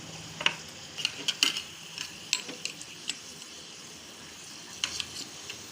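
Raw mango kurkure deep-fry in hot oil, a soft continuous sizzle dotted with clusters of quick crackles and ticks that come in bursts, then fall quiet before a final flurry, with no talk.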